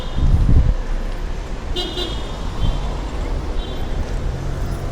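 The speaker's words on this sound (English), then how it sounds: "There are some vehicles and also Myanmar Tri-Show." Busy evening street on Sheikh Kanthar Road in Yangon, Myanmar, with vehicles and trishaws passing: a steady loud traffic roar and rumble, broken by a couple of short car horn toots.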